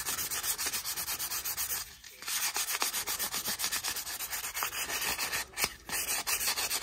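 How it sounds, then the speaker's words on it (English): Sandpaper worked over a classic Case XX folding hunter knife, giving a continuous close rasping scrub in steady strokes, with one brief pause partway through. "Hit it with some sandpaper now."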